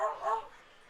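A person at a baseball game imitating a dog's bark, one short yapping bow-wow burst and then a fading tail, close and fairly loud.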